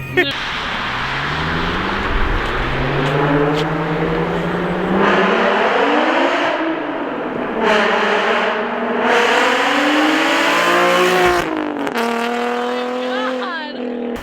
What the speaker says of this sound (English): I honestly didn't even know my car was that loud.